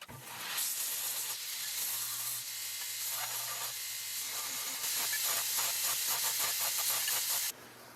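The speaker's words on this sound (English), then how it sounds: "so belt grinder." A belt grinder strips old paint from a metal nut, giving a continuous broadband hiss and rasp over a low motor hum. It swells and roughens in the second half before dropping away near the end, with no voices.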